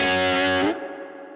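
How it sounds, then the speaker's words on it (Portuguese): An electric guitar with an 808 overdrive pedal engaged on a Fender Tone Master Pro plays one gritty, crunchy chord that sustains briefly, then cuts off into a quieter decaying tail. "A hora que eu quiser mais ganho, eu piso no 808."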